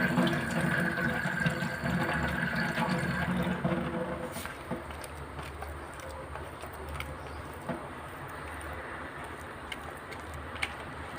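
A kitchen tap runs while dried fish is prepared for frying. A rushing stream of water is strongest at first, then eases to a softer trickle, with faint bird calls in the background and no talk.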